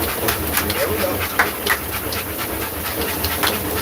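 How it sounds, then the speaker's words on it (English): Large dogs pant steadily in quick, rhythmic breaths outdoors, close by, over constant background noise, with faint bird calls mixed in. "These guys are incredible, incredible dogs."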